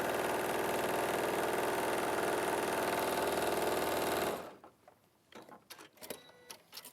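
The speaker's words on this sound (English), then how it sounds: "I can see a little bit better because I'm sewing at an awkward angle" Sewing machine stitching at a steady rapid rhythm, loud and close for about four seconds, then stopping abruptly, leaving quiet room noise and faint movement.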